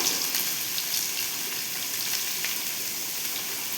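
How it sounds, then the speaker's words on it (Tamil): Fennel seeds fry in hot oil on a stove, making a continuous hissing sizzle with small crackles scattered through it, fairly close and at an even level. "அடுப்பில் எண்ணெயை ஊற்றியாச்சு இப்போ கொஞ்சம் சோம்பு போட்டிருக்கோம்"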